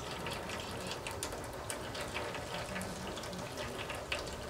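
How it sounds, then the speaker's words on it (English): Transmission fluid from a 2002 Ford Taurus drains steadily in a continuous liquid trickle and splash, moderately close and fairly quiet, with no talking. "Let's let this drain."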